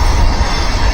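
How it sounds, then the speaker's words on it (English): A train rolling past at a distance, a steady rumbling roar with faint wheel noise, heard continuously over the short span. "Sorry about the train noise in the background"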